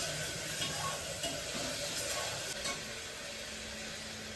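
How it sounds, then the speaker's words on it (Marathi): Masala roasting in a pan for chicken biryani gives a low, steady sizzle with soft stirring scrapes, close and continuous with no voices. "थोडासा लाल होईपर्यंत मस्त भाजून घेऊ."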